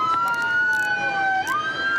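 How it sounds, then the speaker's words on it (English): A police siren wails nearby, its pitch sliding slowly and then sweeping up, with short bursts of noise overlapping it. "cut that siren"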